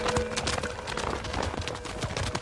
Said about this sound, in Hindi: घोड़ा कहाँ ले जा रही हो?